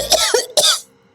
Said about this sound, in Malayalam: എന്താണ് പെട്ടെന്നൊരു ചുമ?